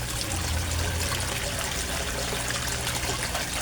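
Submersible pump in a koi pond sending out a constant, loud rush of flowing, splashing water with no pauses, steady throughout.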